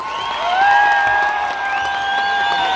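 A crowd at a jaripeo fiesta patronal in Xuchapa applauds and cheers, a steady, fairly loud mass of sound under long sustained whistle-like tones, with no talk.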